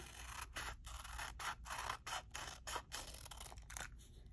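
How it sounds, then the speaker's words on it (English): Scissors snip through paper along a drawn curved line, a quick series of close, crisp crunching cuts with short pauses between them. "Now watch what happens when I cut on that line."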